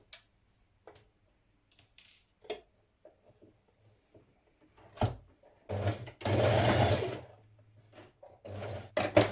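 A sewing machine runs a dress side seam in one short burst of stitching, with scattered light clicks and handling taps before and after in an otherwise quiet room.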